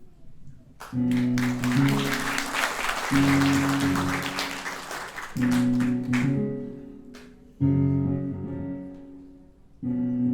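A theater audience applauds at the start of a Dear Evan Hansen performance, warm sustained clapping that swells and fades while a sustained piano-like musical note rings out beneath it in repeated phrases.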